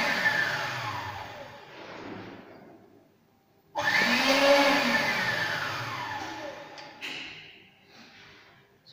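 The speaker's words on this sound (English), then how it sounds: "So this is the homogenizer." A probe homogenizer runs in short pulses on a chloroplast sample in a beaker, its loud whirring motor whine surging and dropping, with a brief quieter gap between bursts and sweeping pitch changes as it spins up and down.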